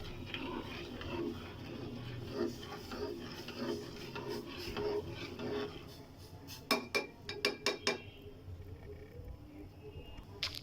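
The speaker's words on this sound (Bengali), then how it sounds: "চিনি দিব আমি 2 চামচ। আর একটু নাড়িয়ে নিই।" A spoon stirs two spoonfuls of sugar into tea, first as a soft muffled swirl, then as a quick run of sharp, close clinks against the cup, with no talk.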